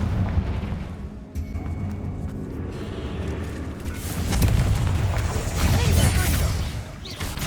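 Confringo spell blasts go off in the Hogwarts Legacy video game, with deep, rumbling bursts over a noisy background and a louder surge midway.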